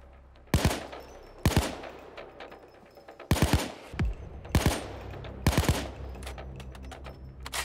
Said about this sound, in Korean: 총 오지게 쏘고 있는데